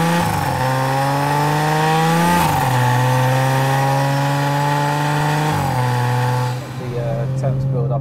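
An 880bhp BMW M140i engine revs loudly and steadily up close, its pitch climbing in long sustained pulls with two brief dips and a drop near the end.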